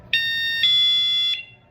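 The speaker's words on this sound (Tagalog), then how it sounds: "pag ginindot mo tong alarm, mag-a-alarm lang siya" A home safety alarm device blares a loud, piercing electronic tone in three quick pulses close by, then stops abruptly.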